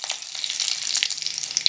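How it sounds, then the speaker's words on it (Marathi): Curry leaves hiss and sizzle in hot tempering oil after popped mustard seeds, for a Maharashtrian black-eyed pea usal; a steady, close crackling with small sharp spits and no talk. "कढीपत्ता घालते"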